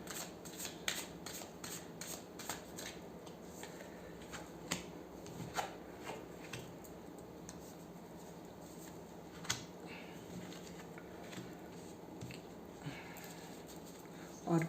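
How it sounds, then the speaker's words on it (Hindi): Tarot cards shuffled by hand in a quiet room, a soft, faint run of riffling flicks and light slaps repeating irregularly, close up with a low background hum. "तो हम लोग कार्ड शफल कर लेते हैं।"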